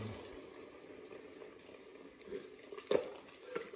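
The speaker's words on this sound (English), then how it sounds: "I'm going to pour the liquid from the fish into" Fish poaching liquid for cullen skink is poured into a pan, a quiet, steady trickle with a few soft splashes that grow slightly louder toward the end, heard alone.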